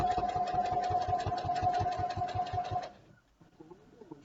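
A sewing machine stitches fabric for a pillow in a fast, steady run of needle strokes with a constant motor hum, close up, then stops abruptly, leaving quiet rustling.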